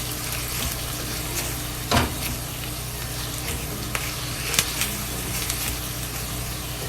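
Chopped kale and ground beef frying slowly in oil in a pan, an even, quiet sizzle with a couple of sharp utensil taps against the pan.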